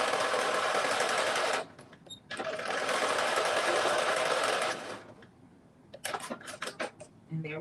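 A sewing machine runs two rows of stitches along a long skirt seam. It gives a steady, close, loud whir in two long runs with a pause between, then a few short clicks and taps.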